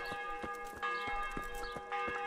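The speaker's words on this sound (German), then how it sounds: "die Kirche läutet" Church bells peal in the medieval game Kingdom Come: Deliverance, a steady run of about seven ringing strikes with long sustained tones, loud and close with nothing else over them.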